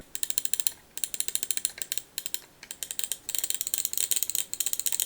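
Rapid ratcheting clicks of a Razer Pro Click V2 Vertical Edition mouse scroll wheel in quick bursts, with short pauses between runs, close and crisp.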